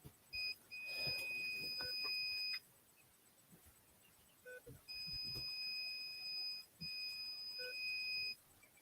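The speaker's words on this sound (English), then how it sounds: "That's my low battery alarm you hear." Electronic low-battery alarm chirping in repeated high, steady two-tone beeps, a pair of bursts then a longer run, fairly faint with no talk over them.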